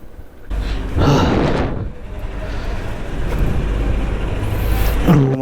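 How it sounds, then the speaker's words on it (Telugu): Road traffic rumbles close by as vehicles pass in a broad, continuous roar, rising at one moment and ending with a short tonal honk. "వీడికెళ్ళి ఫుల్ ట్రాఫిక్."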